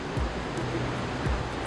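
Victoria Falls pours out a broad, loud, continuous roar of crashing water, a dense hiss and rumble that stays steady and close with no pauses.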